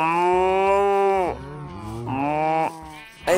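A person imitates a cow with long, loud, drawn-out mooing calls, two sustained bovine-like lows with a dip between them, close to the microphone and with nothing else heard.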